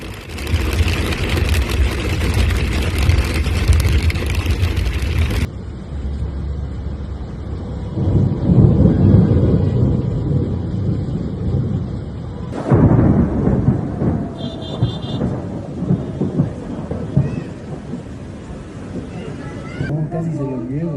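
Floodwater rushes through the streets of La Paz, Bolivia, after the Huayñajahuira River burst its banks during a rainstorm, a loud continuous roar of churning water with rumbling and hiss, voices heard intermittently over it.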